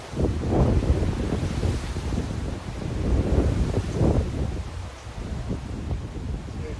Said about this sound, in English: Getting a bit windy.